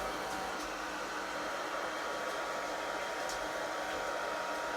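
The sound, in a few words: hairdryer blowing air on a puppy's fur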